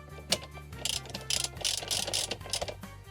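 A hand ratchet tightens a bolt while fitting a steering wheel control to a Nissan Patrol Y62, giving a quick run of close, crisp clicking pawl strokes over about three seconds.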